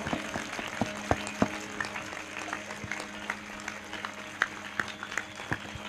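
A church congregation claps in praise during a Hindi worship service, fairly faint and somewhat uneven, with sharper individual claps poking out of a thin spread of applause.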